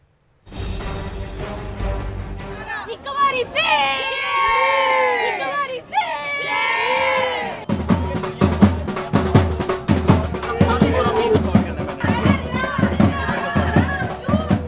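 Party workers in Lahore erupt in a loud, dense crowd roar of cheering and shouting at a court verdict, voices overlapping, followed by rhythmic clapping and chanting that continues to the end.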